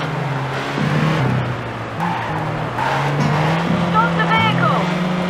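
Car driving and tire skidding in The Getaway on PS2, a steady engine drone with brief screeching tire squeals toward the end, mixed with game music and background noise.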